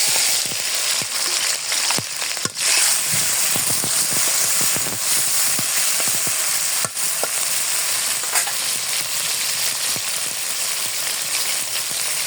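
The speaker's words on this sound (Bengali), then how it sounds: "এখন আমি চিংড়ি মাছটা ছেড়ে দিব" Shrimp fry in a pan with bitter gourd, a loud, steady crackling sizzle punctuated by several clinks and scrapes of stirring, close up with no talking.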